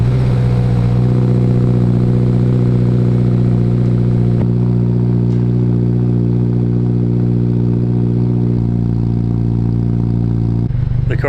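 A warmed-up Subaru WRX idles steadily through a titanium single-exit exhaust, a loud, continuous low drone with a faint burble and no talking.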